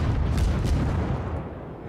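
Naval guns on a warship in World of Warships boom in a loud, low, rumbling salvo that rolls on for a couple of seconds, with repeated heavy blasts blending together before slowly fading.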